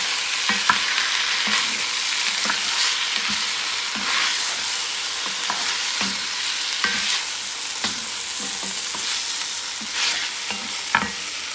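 Lamb neck sizzling as it fries in a pot for a French-style stew, with a spoon stirring through it in repeated scrapes and knocks over a steady close hiss.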